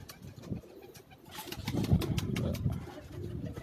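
Pigeons coo low and throaty on a Karachi rooftop in New Rizvia Society, with a soft rumbling swell of several birds near the middle and faint wing flutters and background hum around them.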